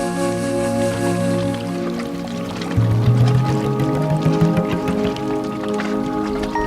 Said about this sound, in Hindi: वाटरफॉल आया है और एक बहुत ही मज़े का व्यू यहाँ से।